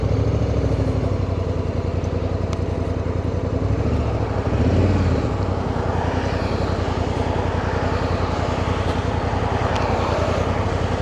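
A 2024 Honda Africa Twin DCT motorcycle riding on a highway in the rain, its engine droning loudly and continuously with steady wind rush throughout.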